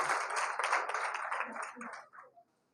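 A church congregation at a Sunday service breaks into brisk clapping, a dense burst of hand claps that thins into scattered last claps and stops.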